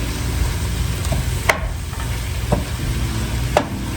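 Chopped cabbage sautés in a pan, giving a continuous close sizzle and frying hiss, with a few sharp clicks as it is stirred.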